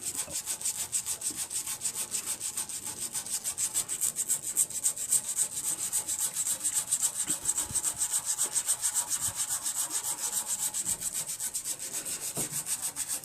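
Paint being scrubbed and abraded off a water heater around a pinhole leak, a continuous rhythmic rasping rub with fast back-and-forth strokes, close and steady throughout with no talking.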